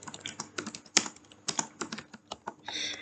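Fast, uneven clatter of keys on a computer keyboard, with bursts of close keystrokes and a brief pause, alone without speech.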